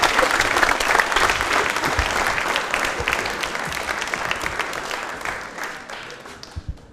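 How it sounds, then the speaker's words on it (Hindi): A studio audience at a quiz programme marking Ambedkar Jayanti claps loudly for a contestant named Pooja, a dense burst of applause that gradually fades toward the end. "पूजा, तालियां हो जाए जोरदार पूजा के लिए"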